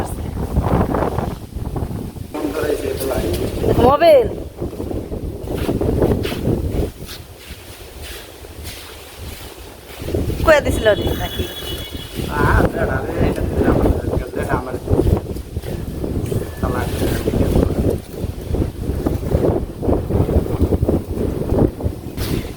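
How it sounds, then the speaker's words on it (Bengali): Strong wind sweeps through a Bangladeshi village at a south-facing house, buffeting the microphone in gusty rushes that rise and fall while people talk over it. "দক্ষিণমুখী আইসি আর বাতাসে থাকন যায় না এত সুন্দর বাতাস"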